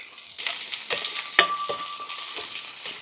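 Onion, garlic and flaked smoked fish frying in a pan, a soft steady sizzle that starts suddenly, broken by a few spatula scrapes and a sharp clink.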